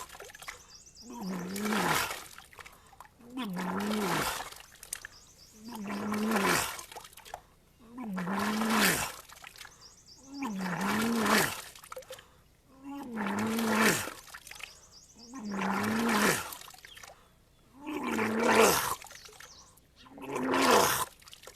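Water expelled from the stomach during a yogic cleansing practice: about seven gushing, retching bursts in a steady rhythm, each a couple of seconds long, close and fairly loud, with throaty vocal strain mixed in.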